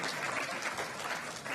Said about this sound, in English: Nice ripple of applause from the crowd there.